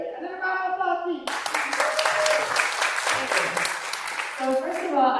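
A conference audience in Bled, Slovenia bursts into loud, dense applause after a voice speaks briefly, the clapping holding steady for several seconds before talking resumes over its fading tail.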